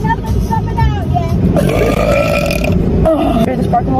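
A woman lets out a long, loud, drawn-out burp up close, rumbling and croaking over about four seconds, with a second short belch near the end.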